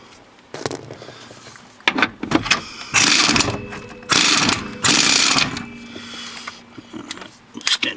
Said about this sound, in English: So I guess we're going to start taking bolts out.